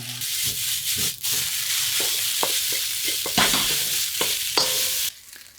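Rice toasting in a hot pan, a continuous close sizzle with repeated scraping and knocking strokes as it is stirred, ending suddenly near the close with no voices.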